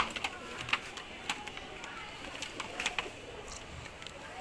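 A Giribaz pigeon hen is let go from the hand, with soft cooing, light wing and feather flutters and scattered small clicks, faint and close in a quiet setting.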